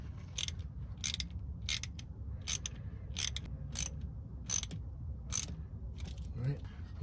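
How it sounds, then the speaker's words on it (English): A hose clamp being tightened on a fuel pump, a series of sharp ratcheting clicks at an even pace, about ten close bursts over a low background hum. "I'm gonna tighten the hose clamp here to the fuel pump"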